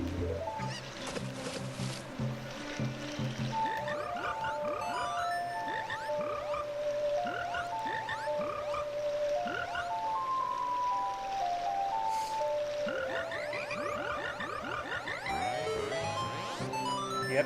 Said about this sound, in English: Young lad, you play the ocarina well. That melody is so fine